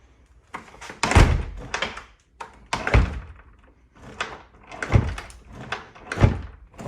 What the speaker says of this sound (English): This door doesn't actually shut properly.